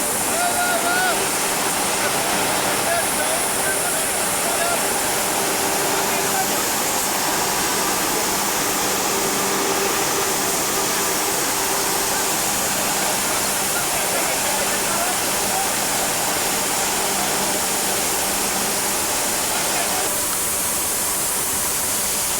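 A continuous, loud hiss of water spraying under high pressure, steady and unbroken throughout.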